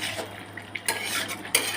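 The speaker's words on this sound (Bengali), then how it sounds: "আমি মাংসটা কষানো শুরু করছি।" Mutton being stirred and braised in a pot, with metal spoon scrapes and clinks against the vessel and a soft sizzle, with sharper knocks at about one and two-thirds of the way through.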